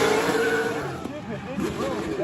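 Drift cars battling at an LZ World Tour drift event, with engines revving and wavering at high pitch and tires squealing, heard from a distance under a commentator's continuous excited talk.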